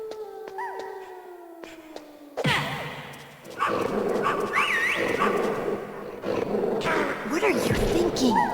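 A dog barking and growling in the video game Metal Gear Solid, several loud, harsh barks mixed with howling and layered over game music tones and a voice speaking.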